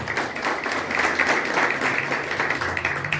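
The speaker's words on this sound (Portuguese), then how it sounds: "Aplauda o Senhor aí por isso" A church congregation applauds steadily, a dense wash of many hands clapping at a constant level throughout, with no voices standing out.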